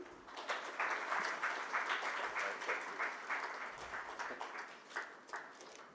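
Applause from a conference audience at a national mines ministers' event, a dense run of clapping heard from a distance at moderate volume that thins out toward the end.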